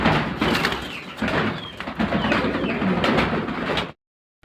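A pair of large fancy pigeons cooing close by, with low repeated coos over a dense, steady layer of other bird calls that cuts off abruptly near the end.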